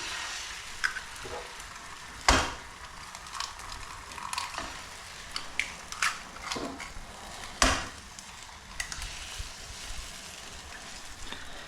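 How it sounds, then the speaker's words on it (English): Eggs sizzle quietly in a pan on a home stove, a steady soft crackle broken by a few sharp clicks and clatters of utensils, with no one talking. "And then now put my eggs in."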